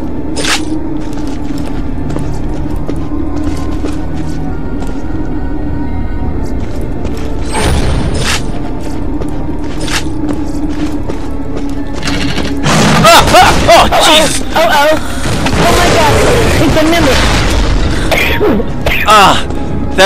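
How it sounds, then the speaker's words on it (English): Grenades explode in Minecraft Vault Hunters: a few dull booms early on, then a loud cluster of crackling blasts in the second half, heard amid game noise and a person talking. "Grenades."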